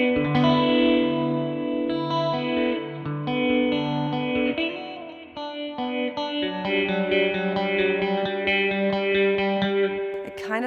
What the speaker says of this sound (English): It kind of sounds like a mild phaser to my ears, and I really love that.